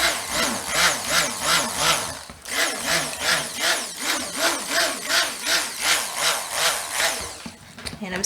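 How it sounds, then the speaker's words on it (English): A stick blender whirs through chamomile and lavender soap batter. The motor drone swells and dips in a steady rhythm, close and loud, pausing briefly midway and trailing off near the end. "I'm stick blending a lot today"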